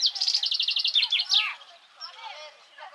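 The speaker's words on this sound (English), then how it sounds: "And birds are humming around." Birds chirp and tweet outdoors at a pine-shaded lake beach in Landes, France, with a dense run of rapid repeated calls that drops into softer, scattered chirps, nearby and fairly clear.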